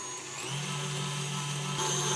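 An electric hand mixer beating butter into cake batter for a confetti birthday cake, holding a steady whirring motor hum with a slight shift in pitch partway through, close and alone.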